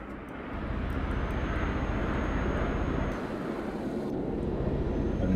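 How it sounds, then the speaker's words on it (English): An airplane drones overhead in the truck driving game Euro Truck Simulator, a steady engine roar that swells after the start and holds at moderate volume. "Something is happening up there on the skies. I can hear some planes."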